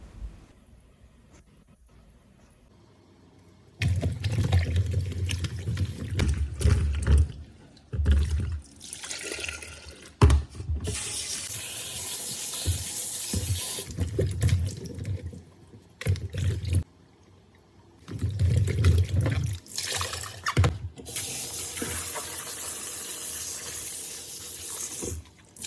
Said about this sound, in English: you want to go ahead and wash it off clean using water